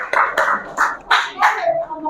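Classroom applause for a student group after their presentation: a few sharp, uneven bursts of hand clapping from the class, close by, mixed with chatter and voices.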